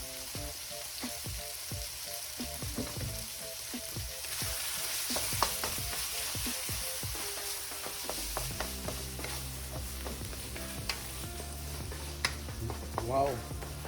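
A generous amount of butter sizzles and crackles steadily in a hot pan, with repeated stirring clicks and scrapes close by and a louder frying hiss building partway through.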